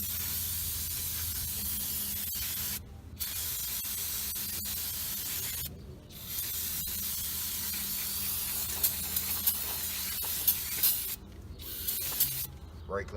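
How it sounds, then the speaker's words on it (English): Brake cleaner sprays in long, loud hissing bursts onto car brake parts during a brake job on an Altima, broken by a few short pauses and some faint handling noises. "brake cleaner does a good job of getting everything clean, and it doesn't leave any residue behind."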